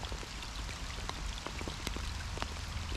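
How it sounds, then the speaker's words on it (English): Rain patters on water and on a waterproof hood in a storm, a dense close shower of scattered drops with sharper individual taps over a continuous low wash. "And then the low sounds from where it's landing on my hood."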